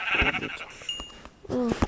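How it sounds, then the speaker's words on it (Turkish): Sheep in Minecraft PE bleating, a couple of short nasal baa calls close up, with other brief game sounds between them and no talk. "Beyaz koyun aldım."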